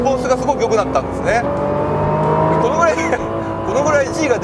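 A 600-horsepower 2020 Nissan GT-R NISMO accelerating hard on a track, its engine whining and rising and falling through gears, close and loud, with someone talking over it throughout.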